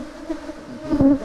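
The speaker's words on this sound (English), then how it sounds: "You can see clearly that the bees are working very serious." Honey bees buzzing at an opened hive during an inspection in Ghana, a close, continuous droning hum that swells as a bee passes near, with no talking.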